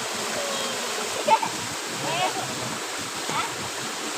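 A forest stream flows in a steady, close, hissing rush where someone bathes, with occasional soft splashes rising above the constant water noise.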